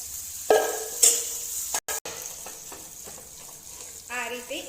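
Dahi vadi batter stirred rapidly in a pan over high-to-medium flame, close scraping and swishing strokes with a faint sizzle, broken by a brief clatter, with voices faintly in the background.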